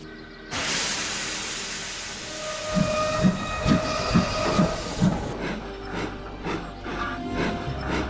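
A steam locomotive starts up with a sudden loud hiss of steam, then a run of rhythmic, chuffing puffs as it gets going, with no voices.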